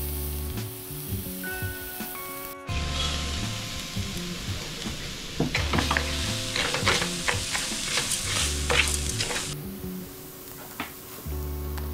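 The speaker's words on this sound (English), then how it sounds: "I'm gonna add the arborio rice to that." Arborio rice stirred into shallots sautéing in a pan for mushroom risotto, giving a steady sizzle with scraping stirs and grainy rattles, close and moderately loud, with music playing underneath.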